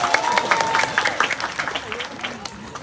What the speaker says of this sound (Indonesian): Tepuk tangan dulu buat ibu-ibu.